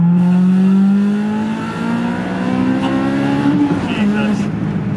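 A Honda Civic Type R EK9 engine revs hard on a wet road, its tone climbing in rising pulls with road and tire noise under a person talking.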